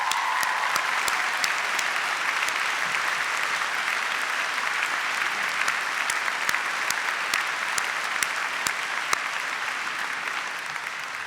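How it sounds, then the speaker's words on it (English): Graduation ceremony audience at the University of Manchester clapping for top-ranked students, a long, even wash of applause from a large crowd with a few sharper claps standing out, fading slightly at the end. "Let's clap them."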